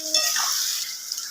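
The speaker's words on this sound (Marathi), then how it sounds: "आणि हे झाल्यानंतर तेल व्यवस्थित गरम झाल्यानंतर हा जो खडा मसाला आहे तो खडा मसाला याच्यामध्ये आपण टाकायचा" Whole spices drop into hot oil for chicken dum biryani, giving a short, soft sizzle with a hissing crackle that fades quickly.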